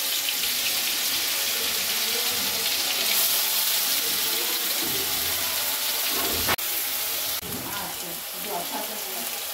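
Ginger, garlic, tomato, onion and capsicum paste sizzles steadily in hot oil in a wok for a spicy fish curry, a dense continuous hiss with a brief sharp clatter partway through.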